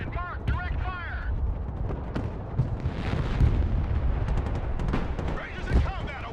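Direct-fire gunfire and explosions rumble through a session of the military video game Broken Arrow, a steady stream of bursts and booms under radio-style voice chatter and speech.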